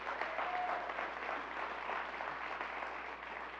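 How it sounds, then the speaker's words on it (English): Faint, steady applause from an audience at a leadership and mental wellness talk, a soft continuous patter that sounds distant and keeps an even level throughout. "Let's give them a round of applause real quick."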